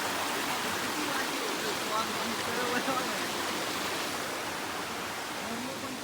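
A waterfall on a hill trip roars steadily and loudly without a break, a dense rushing wash of water and no voices.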